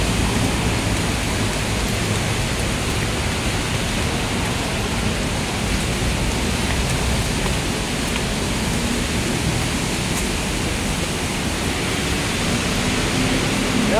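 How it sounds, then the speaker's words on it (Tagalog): Heavy rain pours down in a city on the way from SM North to Western Bicutan, Taguig, making a dense, loud, unbroken roar of falling water with no break for the whole stretch. "Yan, malakas ang buhos ng ulan."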